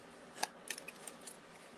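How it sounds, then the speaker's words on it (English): A deck of tarot cards is shuffled from a fresh, ordered pack, giving a few faint, quick papery riffles and taps in a short quiet moment with no talking. "I have to shuffle these pretty good here since they're in order."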